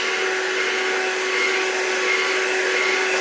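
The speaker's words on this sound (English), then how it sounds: "I'm basically holding the vacuum cleaner up trying to vacuum the couch" A handheld vacuum cleaner runs continuously while cleaning pet hair off a couch, a steady, loud, high-pitched motor whine with no breaks and no talking.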